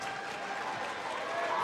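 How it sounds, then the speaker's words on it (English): Marysville fans on their feet cheering at a district boys' basketball final: a steady wash of crowd cheering and clapping in a gym, fairly distant and even throughout. "we have a few Marysville fans up on their feet cheering them on"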